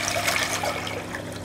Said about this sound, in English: I'm going to put some boiling water in this saucepan